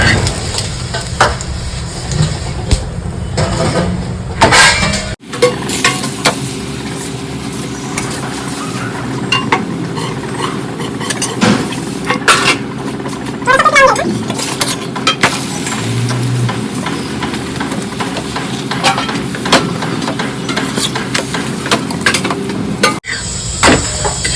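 A chapati roasts on a hot griddle. A low sizzle runs throughout, with occasional taps and clatter from turning and pressing.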